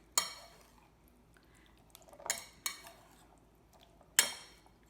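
A spoon clinks and scrapes against a dish while herbs and citrus are mixed into a beef short rib and turnip dish, a few sharp separate clinks with quiet pauses between them, close and without speech.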